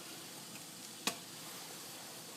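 Tea boils in a pot with a steady, even bubbling hiss, faint and continuous, broken once by a single sharp tick.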